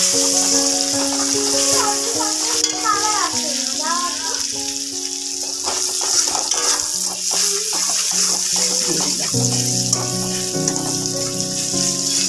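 Spiced bitter gourd with cumin powder and turmeric sizzles steadily in a frying pan as it is stirred, a continuous bright hiss sitting under background music.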